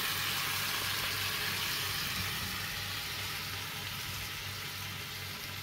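Yakitori-style chicken skewers with peppers grilling, giving a constant broad sizzle with no breaks that fades slightly toward the end, heard up close with no one talking.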